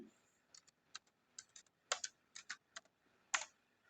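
Quick clicking keystrokes on a computer keyboard as a command is typed on Windows, a dozen or so crisp taps in irregular bursts, close and fairly quiet with no talk.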